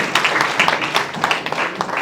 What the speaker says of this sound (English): A big round of applause for yourself.